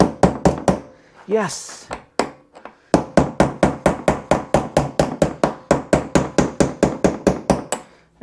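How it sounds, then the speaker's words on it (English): A chisel struck repeatedly with a hammer against the side of a stuck screw during a 1980 Dodge W200 Ramcharger fuel tank job: sharp, loud metallic blows, a few spaced then a fast steady run, with a brief voice early on. "I want to see if I can just like chisel on the side of the screw and get the turn"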